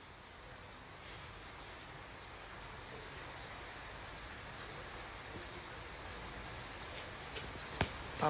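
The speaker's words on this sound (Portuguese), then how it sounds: "Tá chovendo tanto." Heavy rain falls steadily in a soft, even hiss with no break, faint and diffuse in the background, with a couple of brief louder taps near the end.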